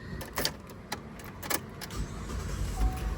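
A car engine idles steadily and close by, a low continuous rumble, with several sharp clicks and knocks from handling around the car over the top and no talk.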